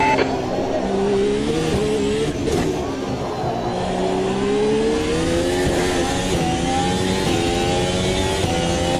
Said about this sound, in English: You're locking your right front going into Mirabeau.